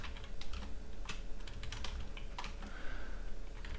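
Rapid clicks of typing on a computer keyboard, close and steady, with clustered keystroke bursts over a faint constant background hum and no voices.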